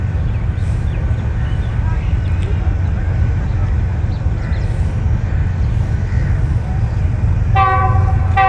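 A train pulls into the platform at Dina railway station, a steady loud low rumble of rolling wagons throughout, with a brief horn toot near the end.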